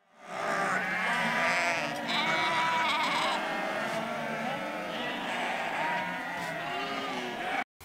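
Newborn lambs on a farm bleating continuously, a dense overlapping chorus of cries held close and fairly loud for about seven seconds.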